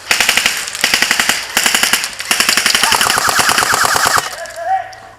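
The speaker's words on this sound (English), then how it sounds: "they're shooting through this window." Airsoft guns firing in rapid automatic bursts through a window during a village skirmish, loud and close, with short pauses between strings before they stop near the end.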